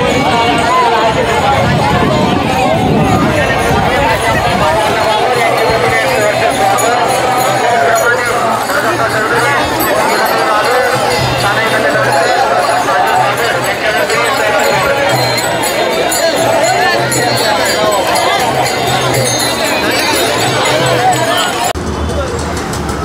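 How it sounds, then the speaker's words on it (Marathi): A dense crowd of warkari pilgrims fills the Tukaram palkhi procession in Pune with continuous bustling babble, footsteps and occasional bell-like rings, while someone talks over the din. "तुम्ही बघू शकता गर्दी, तुफान गर्दी वारकऱ्यांची."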